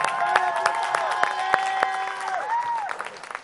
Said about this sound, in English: Let's give them a big hand.